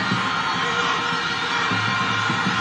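A football stadium crowd cheers a penalty in a match between Simba and Singida, a dense and loud roar that holds steady without a break.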